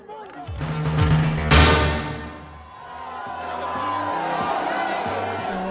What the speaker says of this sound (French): Ça, c'est un bain de foule.